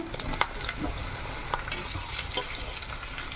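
Roasted chicken tipped into a clay pot of chicken biryani, with steady sizzling, stirring and several scraping clatters close up.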